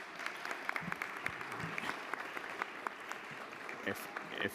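Applause fills a New York City Council chamber at City Hall, a steady wash of clapping from a seated crowd, moderately loud and sustained throughout with scattered voices mixed in.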